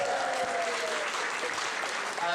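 Steady, dense clapping from a large audience at a talent contest fills the whole stretch, loud and continuous with no breaks.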